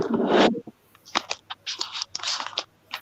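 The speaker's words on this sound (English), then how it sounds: "Better shuffle those cards." Tarot cards being shuffled up close, with a short burst of rustling followed by quick, light scratchy riffles and taps in irregular bursts.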